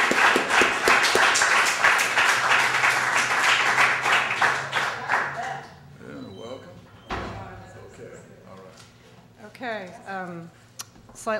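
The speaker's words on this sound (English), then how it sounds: "Let's give Elizabeth Hope a great round of applause for the first time." An audience at a poetry reading in a branch library gives a round of applause for poet Elizabeth Hope, dense clapping for about five seconds that then stops, followed by quieter room noises and a voice.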